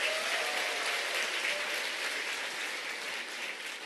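Sustained applause from a seated audience at a Korean product presentation, dense and steady clapping that fills the space from start to finish with no voices standing out.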